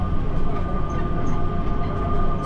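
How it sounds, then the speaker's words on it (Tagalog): A Skytrain train rolls along in motion, a loud continuous rumble with a steady whining tone and dense mechanical drone, close by and without talk. "Skytrain."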